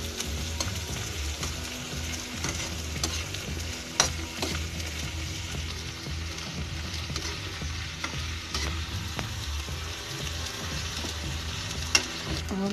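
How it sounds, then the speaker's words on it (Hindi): Shredded cabbage sizzles and fries in a pan for masala pasta while a spoon stirs it, a steady close crackle with a couple of sharper knocks against the pan. "अब हम इसे चलाएंगे।"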